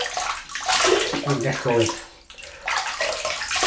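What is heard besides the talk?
water splashing while rinsing face during shave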